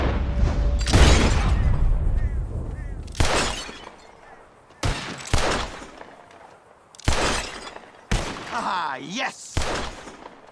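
Red Dead Redemption 2 gunfire in a shooting duel: several sharp, loud shots spaced a second or two apart, each with a booming tail, while a man exclaims briefly between them.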